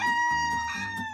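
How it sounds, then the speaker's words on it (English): Chickens give a brief, close burst of clucking and crowing, with a strained, throaty call lasting about a second. "Chickens."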